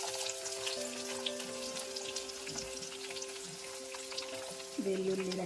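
Onions, garlic, ginger, lentils and mustard seeds fry in oil with a soft, steady sizzle that swells slightly near the end, heard alone without talk.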